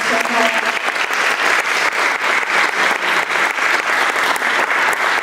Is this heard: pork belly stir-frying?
no